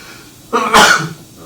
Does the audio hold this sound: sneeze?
yes